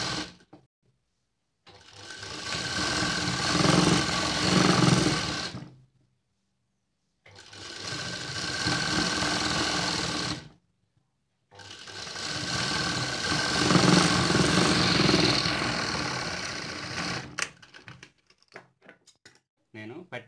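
An electric sewing machine stitches a Kalli dress in three long runs of steady, rapid whirring, separated by brief silences, ending with light handling clicks.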